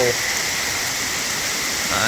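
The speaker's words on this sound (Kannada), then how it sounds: "ಇದು ಯಾವ ಮಳೆ ಇದು, ಭಯಂಕರ ಮಳೆ ಅಲ್ಲ, ಘೋರ ಮಳೆ, ಯಾವುದೋ ಒಂದು ಮಳೆ, ಒಟ್ಟು ಜೋರು ಮಳೆ" Heavy rain pours down in a thick, constant hiss. A faint voice can be heard briefly at the edges.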